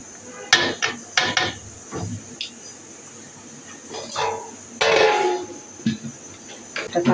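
A spoon stirs and scrapes through Arabian kabsa in a cooking pot, giving irregular metallic clinks and knocks with short scraping bursts spread across the moment, with a lid handled nearby.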